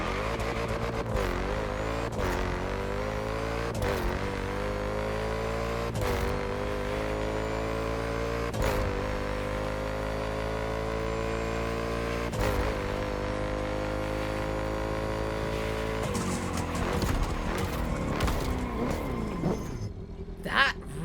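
Car engine with an add-on kit in The Crew Motorfest video game, growling steadily for the whole span with a rising pitch and short dips between gear shifts, loud and close.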